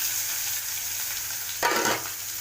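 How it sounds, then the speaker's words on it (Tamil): Onions sauté in hot oil with mustard seeds and curry leaves, giving a soft, steady sizzle that swells briefly into a louder crackle when stirred. "வெங்காயத்தை போட்டு நல்லா வதக்கணும்."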